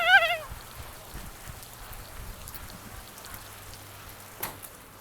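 Rain falls in a soft, steady patter on surfaces nearby, faint and continuous, with a brief warbling chirp at the very start.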